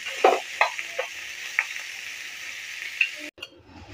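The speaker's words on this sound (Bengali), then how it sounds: "আর আমি ফ্রাই করে নিতেছি" Meat frying in a pan for Arabian kabsa (lahm kabsa): a steady close-up sizzle with a few louder spattering bursts and stirring scrapes, cutting off abruptly near the end.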